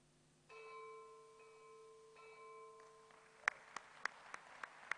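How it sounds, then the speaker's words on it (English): A gong struck to close a formal policy forum ceremony, ringing out in a series of about six sharp strikes with sustained metallic hum beneath, after a steady tonal drone; moderately close and fairly faint in a hall. "He will officially close our meeting with ringing the gong."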